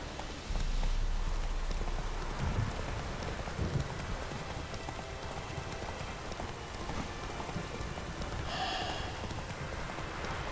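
Horse hooves trotting in The Witcher 3, a steady clip-clop rhythm under continuous rain-like ambient noise, moderately loud and constant throughout.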